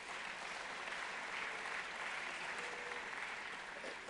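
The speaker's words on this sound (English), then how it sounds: "he always gets a big round of applause from the crowd here" An audience at an awards event gives a big round of applause, dense sustained clapping filling the whole stretch at an even level without a break.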